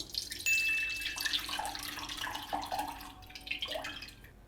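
Tamarind water is poured into a pot as the base for a pepper garlic rasam, a steady splashing trickle lasting a few seconds, close and with no voices.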